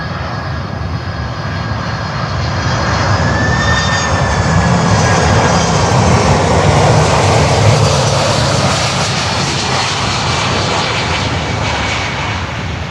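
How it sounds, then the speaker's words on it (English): A Dash 8 turboprop aircraft approaching to land at Miami airport, its engine drone loud and continuous, swelling as it passes with a steady propeller hum. "So we have a Dash 8 from Department of State. Looks like it's coming in here."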